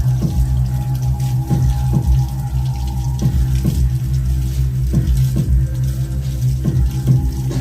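Hot tap water runs steadily at a sink, splashing over hands with a loud, close, continuous rush and periodic shifts as the hands move.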